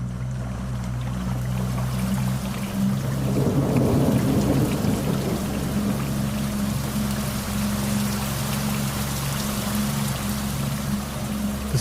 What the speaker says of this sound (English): The storm comes across the water quickly, but luckily there's no wind at all. Just a very hard, straight-down torrential rain.